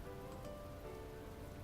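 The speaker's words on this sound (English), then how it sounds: "The rain, indifferent to her concerns, repeatedly intensifies." Steady rain from the visual novel The Fruit of Grisaia, a dense constant hiss of drops on a surface, unbroken throughout with no voices.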